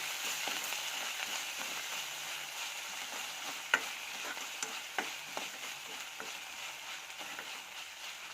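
Curry leaves and drumstick leaves fry in a pan with a little oil, onion and green chilli. The sizzle is faint and steady, with a few light stirring taps.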